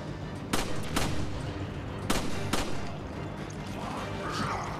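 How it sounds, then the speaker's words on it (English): Cannon fire in Resident Evil 5: a few loud, sharp booming blasts spaced a second or so apart over a steady rumbling game background, with no speech. "The cannons."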